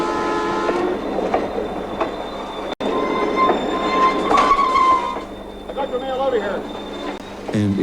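A train runs on a remote northern Canadian branch line, giving a steady loud rumble of wheels on rail with clicking and squealing. Tones like a horn rise above the noise, and a voice talks over it.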